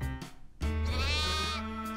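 A cartoon sheep lets out one long, wavering bleat after a short lead-in, close and loud, with no talking.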